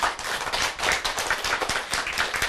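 A small group claps at a folk-story talk, giving close, sharp handclaps in an uneven, lively rhythm that goes on throughout.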